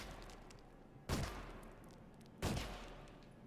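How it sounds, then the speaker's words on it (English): Two gunshots fired at rocky pebbles in the video game Killzone Shadow Fall, each a sharp burst with a short gritty tail, spaced over a couple of seconds against a faint background. "if you shoot these rocky little pebbles, you can actually hear the pebble noise"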